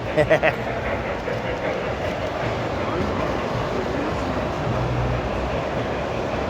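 Steady rumble of model trains running and passing one another on a layout at an indoor train show in Costa Mesa, a continuous mid-level rolling noise with a brief burst of sound at the start.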